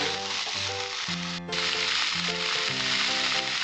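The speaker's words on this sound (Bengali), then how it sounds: "এবার আমি ছোলাটা দিয়ে দিচ্ছি। আমি 5 মিনিট ভাবে কষিয়ে নেব।" Chickpeas sautéing in a pan for a vegetarian Bengali pumpkin chokka give off a steady, close sizzle that runs the whole time, with a tonal melody playing underneath.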